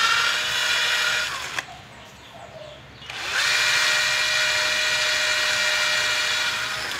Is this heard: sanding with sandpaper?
yes